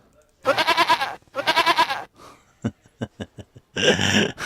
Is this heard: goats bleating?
yes